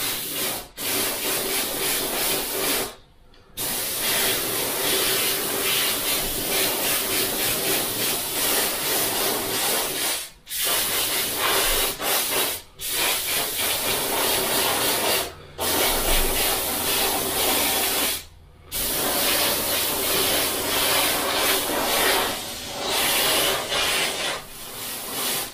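Spray paint is dusted onto custom bike forks in a steady, close hissing stream that runs almost continuously for about 25 seconds, broken by a handful of brief pauses between passes. No voices are heard.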